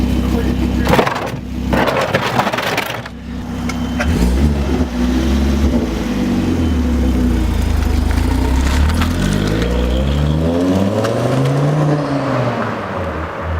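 A Volvo engine revs loudly up close as the car pulls out, its pitch rising and falling through several surges under nearby voices, with an opening burst of clatter and rumble.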